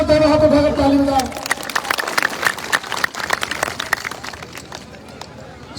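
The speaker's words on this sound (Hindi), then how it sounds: "मैं आप सबसे निवेदन करूंगा उनके स्वागत में, सम्मान में जोरदार दोनों हाथ उठाकर ताली बजाएं" A crowd at a Congress election campaign event welcomes Imran Pratapgarhi with loud, sustained, dense clapping that follows someone speaking over a loudspeaker and gradually thins out toward the end.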